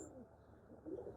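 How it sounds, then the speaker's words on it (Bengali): Pigeons coo softly at a moderate distance, a low throaty murmur swelling near the end, with no talk. "অনেক কবুতর আছে"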